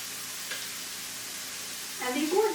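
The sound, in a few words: minced garlic sizzling while frying in pan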